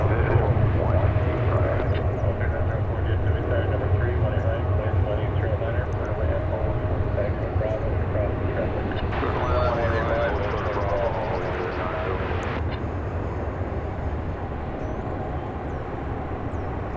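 Airliner bound for Jackson at DFW airport, a sustained, fairly loud jet rumble with a low steady drone, while a person talks over it throughout.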